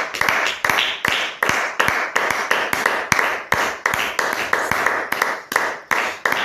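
A church congregation claps in a steady, even rhythm to acclaim the Lord, sharp repeated hand claps close and loud, with no voices over them.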